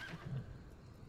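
A horse neighs in the online role-playing game Final Fantasy XIV, one short whinny with a breathy, fading tail, heard alone without talk.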